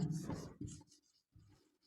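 A teacher writes a sentence on a board, giving a few quiet, close scratching strokes separated by short pauses.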